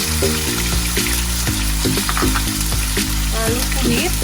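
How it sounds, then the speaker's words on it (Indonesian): Ground spice paste fries in three or four spoonfuls of oil, giving a loud, continuous sizzle with sharp stirring clicks and scrapes at irregular intervals throughout. "Kasih minyak kira-kira 3 atau 4 sendok. Kita masukin bumbu yang sudah dihaluskan"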